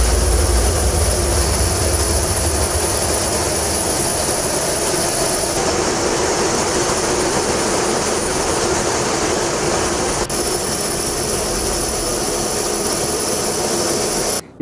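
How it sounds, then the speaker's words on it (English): A U.S. Air Force B-1 bomber flying over international waters roars with a loud, steady jet rumble that holds unbroken for about fifteen seconds, with no voices. "U.S. Air Force B-1 bombers out of Guam, as well as fighter jets out of Okinawa, Japan, flying over international waters"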